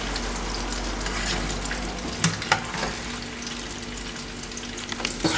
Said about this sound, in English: you allow it to fry until it's golden brown